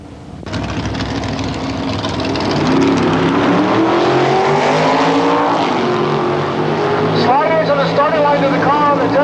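A 350-inch Chevrolet coupe drag racing down the right lane at Palmdale Raceway, engines roaring loud and rising as the cars accelerate, with an announcer talking over the run.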